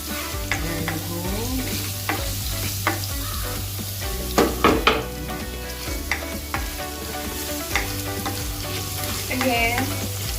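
Garlic frying in about a ladle of hot oil, a dense continuous sizzle close by, with bright crackles and the occasional clatter of a spoon against the pan and no talking.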